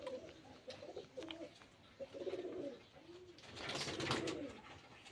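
Pigeons at a pigeon seller's in Beldanga, Murshidabad, give soft, low repeated coos in short rolling bursts, fairly close, with a louder burst of activity near the end.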